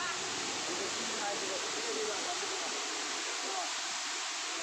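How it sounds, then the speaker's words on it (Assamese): A steady, rushing roar of falling water fills the scene, broad and constant like a nearby waterfall. "আৰু এইপিনে আছে গোটেই ৱাটাৰফলটো।"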